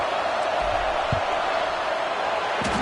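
A big football stadium crowd roars for a field goal kick in a Tennessee versus Washington State game, a dense, loud, sustained wash of cheering with a few sharper thumps and shouts inside it.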